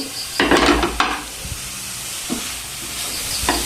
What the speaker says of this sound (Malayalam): അപ്പൊ ഇതാ നമ്മുടെ ക്യാബേജ് ഇട്ടു